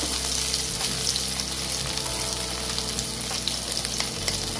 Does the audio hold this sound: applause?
no